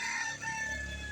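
An old rooster crows close by in a backyard, one sustained, loud, strained call that fills the short moment.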